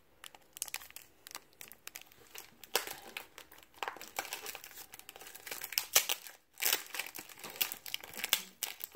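A mailed package is cut and opened by hand, giving close, irregular bursts of crinkling and rustling plastic wrapper with short pauses between handling movements.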